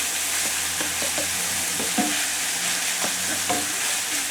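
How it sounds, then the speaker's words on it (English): Steady sizzling hiss of meatloaf in a hot cast iron pan, with scattered clinks and scrapes of a utensil stirring, close and continuous with no talking. "I'm going to turn the heat off and let this sizzle a little bit and simmer down."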